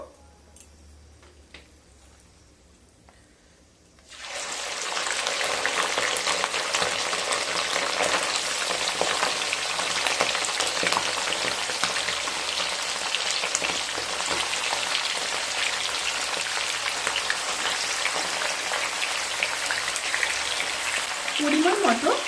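Mutton pieces drop into hot oil with bay leaves and start frying. A loud, steady sizzle begins abruptly after a quiet start and continues evenly, with faint crackles and stirring on top.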